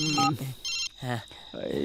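A telephone rings in a comedy film scene, its repeated electronic bell tones alternating with short bursts of talk over roughly two seconds.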